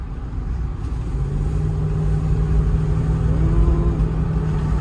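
A Jeep Grand Cherokee engine holds a steady, loud drone while driving, with a brief rise in pitch partway through, constant and close with no voices.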